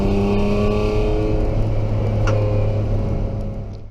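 A race car, loose at the rear, accelerates hard out of turn 1 at Taupo. The engine roars loud and close in a steady rising drone that fades slightly at the end, with no voices.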